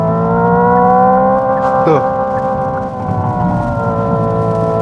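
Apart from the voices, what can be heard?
Hyundai Ioniq 5 N simulated engine sound at redline, first gear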